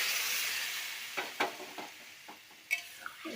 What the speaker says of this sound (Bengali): জলটা ঢেলেই দিলাম।